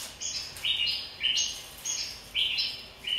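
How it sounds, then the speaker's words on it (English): Forest birds in the Central Highlands of Papua New Guinea sing late-afternoon calls, a series of clear, bright, repeated chirping phrases in a steady rhythm, fairly close and with no talk. "When those birds sing their late afternoon calls, that's a signal to the children to go back home."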